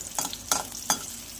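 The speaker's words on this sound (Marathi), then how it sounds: "तर मिरची आपण छान अशी फ्राय करून घ्यायची आहे" Chopped green chillies fry in hot oil in a wok, a steady close sizzle broken by three quick scraping stirs, with no one speaking.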